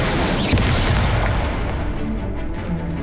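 A fire spell, Incendio, is cast in the Hogwarts Legacy video game, producing a loud, sustained roaring burst of flame with a rumbling low end that fills about three seconds, with no talking.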